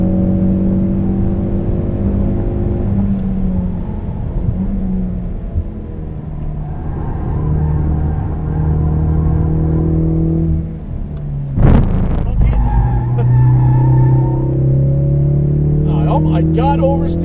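Mountune-tuned Ford Focus RS engine droning and revving on a race track, heard from inside the cabin with sustained tonal engine hum that rises and shifts, a brief sharp knock midway, and someone talking over it.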